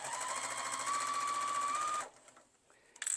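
A sewing machine runs steadily for two seconds back stitching an iPad case sleeve, a close, even mechanical whir and rapid needle ticking, then stops, leaving quiet handling sounds.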